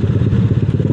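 A Yamaha Aerox 232cc motor scooter rides through traffic, its engine a close, steady low drone with a rapid pulsing throb, heard alone.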